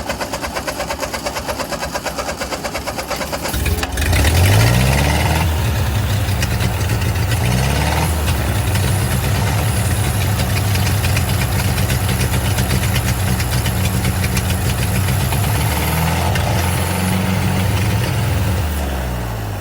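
A Ford 8N tractor, left sitting in weeds for over five years, cranks, catches and roars to life, then runs loudly and steadily at a high idle with a rough, slightly knocking tone and no talking.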